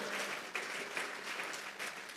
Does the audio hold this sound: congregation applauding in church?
yes